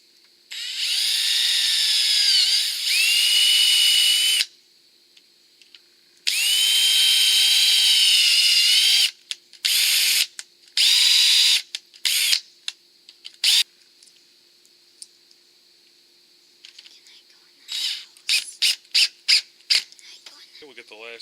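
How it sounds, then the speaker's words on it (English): A power drill drives screws into the frame of a Larson Savannah storm door. Two long, loud, high whirring runs are followed by shorter bursts and quick stuttering triggers, close up with quiet gaps between them. "We're going to go ahead and get a couple screws in right here to get some holes started."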